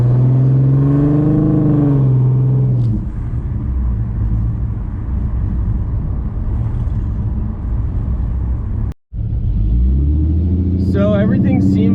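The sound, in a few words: car engine running with idle chop mod installed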